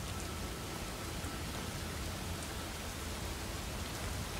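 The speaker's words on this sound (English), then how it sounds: "Stupid rain." Steady rainfall in the video game Skyrim makes a soft, even hiss with no distinct drops or thunder, a constant faint wash of ambient weather with nobody speaking.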